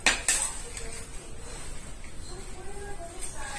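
Metal hangers clink and rattle together in a few quick bursts, fairly close, with light shuffling between them.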